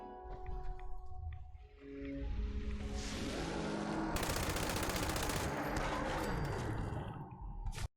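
A light machine gun in a video game fires at a huge max-level behemoth enemy: loud, dense, sustained automatic fire that rattles continuously for several seconds before cutting off abruptly.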